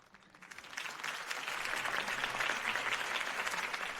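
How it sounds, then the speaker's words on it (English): A virtual crowd breaks into sustained applause and cheering after a mayoral campaign speech in the Batman Telltale video game, swelling quickly and holding steady. "could have heard that applause"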